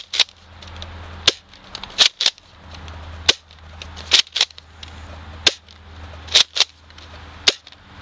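Rapid Glow foam-dart toy blaster with a brass breech firing darts: sharp, loud pops, roughly ten in an irregular series, each a crisp snap over a steady low hum.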